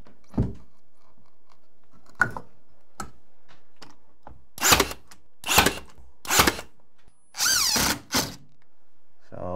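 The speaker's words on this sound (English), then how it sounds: "I'll just take this screw out and move it down a little bit." A power drill backs a screw out of a board on a steel pre-hung door, with several short loud whirring bursts in a row after scattered clicks and taps, close by with no voice.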